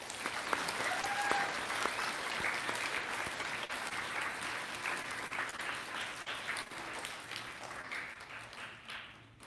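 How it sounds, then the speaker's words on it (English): An audience at a Connecticut elementary school Kid Governor event gives a round of applause, a soft, dense patter of many hands that stays steady and then tapers off at the end. "Let's give them all a round of applause."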